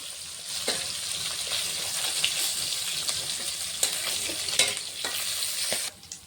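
Hilsa fish frying in hot oil, a continuous close sizzle and crackle with occasional sharp pops and a few stirring scrapes, cutting off near the end.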